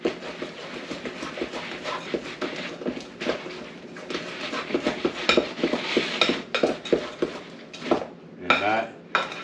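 A spoon scrapes and clinks around a bowl as muffin batter for caramel apple muffins is stirred by hand, a steady run of close, busy knocks and scrapes with no talking.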